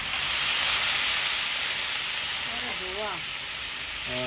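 Water hits a hot pan of fried onion and garlic with a loud, steady hiss, a broad sizzling rush that continues, with faint tonal sounds near the end.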